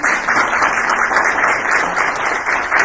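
Church congregation at a Sunday morning service applauding, a steady close wash of many hands clapping at even loudness with no voices over it.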